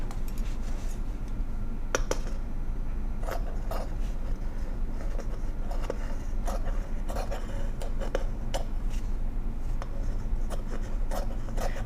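Scissors snipping through fabric in a steady series of crisp cuts, close by over a low background hum.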